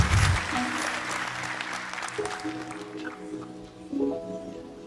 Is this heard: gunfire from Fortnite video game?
no